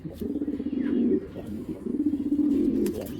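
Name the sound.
racer pigeon calling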